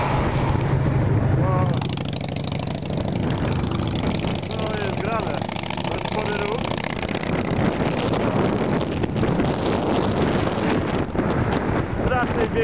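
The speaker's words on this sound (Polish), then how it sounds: "Wieje nam wiatr." Wind buffets the microphone while riding a bicycle on the far side of the High Tatras near Stary Smokovec, a steady broadband roar filling the clip with people talking over it throughout.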